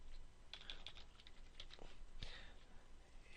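Quiet typing on a computer keyboard, a short run of soft, irregular key clicks over a faint steady background hiss.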